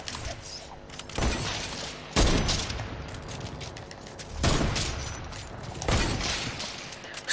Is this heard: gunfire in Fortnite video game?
yes